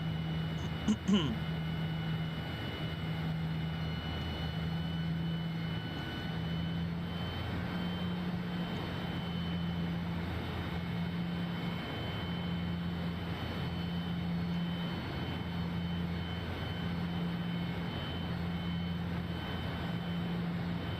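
Cessna Citation CJ4 business jet taxiing in Microsoft Flight Simulator, a steady low engine hum and drone running continuously and evenly throughout, with a brief click near the start.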